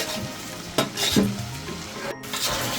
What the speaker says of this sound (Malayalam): ഇതെല്ലാം നല്ല കിലുകിലാന്ന് വറുത്തെടുക്കാം നമ്മുടെ കരിവേപ്പിലയും കൂടെ ഇട്ട് കൊടുക്കാം